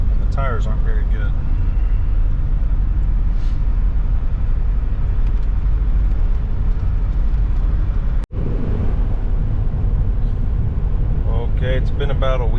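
Steady, loud cabin rumble and road roar from a Chevrolet Suburban with a crooked, sometimes shaky steering wheel and worn tires, with a voice briefly heard near the start and end.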